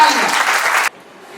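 An audience at a rewards and recognition event claps loudly to welcome children about to perform a Ganesh Vandana. The dense applause lasts under a second, then cuts off abruptly to near silence.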